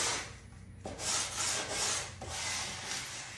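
Sandpaper rubs back and forth over the edges of a rustic farmhouse wooden entryway bench in a few long, rasping strokes, close and steady, with no talking.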